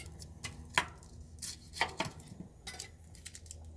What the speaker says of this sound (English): There's a really simple way to julienne onions.